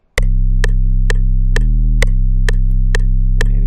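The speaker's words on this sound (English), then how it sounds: "I got the metronome on." A metronome clicks steadily about every half second, sharp bright ticks laid over a loud, sustained 808 sine-wave bass tone that shifts pitch a couple of times in a music production setup, with no talking.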